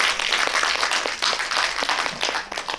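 An audience at a small film festival's audience talk applauds a short-film director, a lively burst of many close claps with distinct sharp hits, steady throughout.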